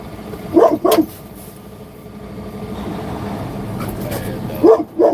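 A dog barks in two short bursts, one at the start and one near the end, close and loud, while someone talks to it in between over a low background rumble.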